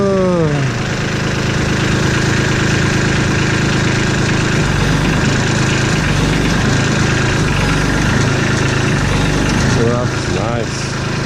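A tractor engine idles steadily and loudly close by, with a low continuous running drone throughout and brief higher whines near the start and end; a voice talks over it at times.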